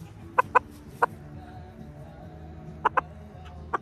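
Several sharp, short bird squawks in scattered pairs, moderately close, over a quiet low background hum.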